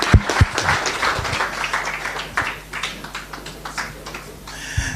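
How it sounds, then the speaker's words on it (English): A seated audience applauding after a speech at a project launch event, scattered clapping close by with uneven rhythm, moderately loud and sustained for several seconds. "Let's give him a round of applause."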